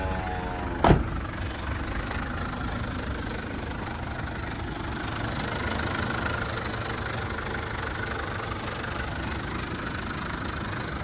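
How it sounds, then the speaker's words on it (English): A Mitsubishi Delica Space Gear diesel engine cranks and fires with a sharp burst near the start, then settles into a steady, rough, clattering idle that continues unbroken. "let's give her a start. Glow plugs, let that warm up, turn, boom. Gives you all the diesel sounds."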